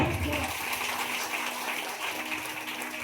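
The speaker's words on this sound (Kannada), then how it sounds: "ಚಪ್ಪಾಳೆ" Applause from a church congregation during a sermon, a steady wash of many hands clapping at moderate distance with a faint voice underneath, continuing evenly throughout.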